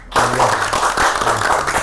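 A small audience breaks into clapping after a podcast-style talk, a quick flurry of hand claps starting abruptly and continuing briefly, with a voice audible underneath.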